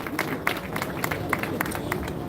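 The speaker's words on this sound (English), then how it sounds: "Shall we do a big round of applause?" Scattered clapping from an audience at an evening press freedom awards night in a hotel, a broad textured patter of many hands that stays steady but moderate, heard from a little distance with some crowd noise underneath.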